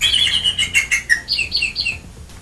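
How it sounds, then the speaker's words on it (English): Pet bird chirping in a quick series of bright, high tweets, fairly close and clear, repeated in short bursts with no talking. "Chirping words, what is that?"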